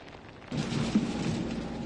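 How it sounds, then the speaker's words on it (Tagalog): Heavy rain and strong wind lash Camarines Norte during a storm, a dense roar of rain and gusts that swells loudly after a quieter half-second and then holds steady, with no voices. "ganito pa rin kalakas ang ulan at hangin dito sa Camarines Norte"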